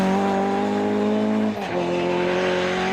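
Ford Escort Mark II rally car taking a gravel bend flat out, a loud, close, high-revving engine howl held steady, then a brief dip and pitch drop before pulling on.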